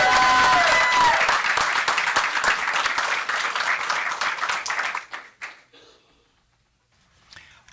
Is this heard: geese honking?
no